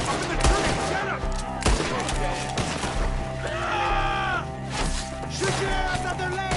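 Gunfire in a PS4 shooter video game, with rapid bursts of shots and thuds over a dense mix of music and shouting voices, loud and continuous.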